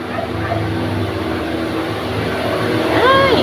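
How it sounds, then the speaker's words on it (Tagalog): A motor truck passes by, a loud steady engine rumble dominating throughout and swelling near the end, with faint background sounds under it. "So motor truck dumadaan, maingay, pasensya na po."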